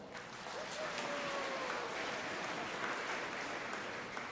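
A church congregation claps loudly together during a homily, a dense, steady wash of applause sustained throughout with no voices.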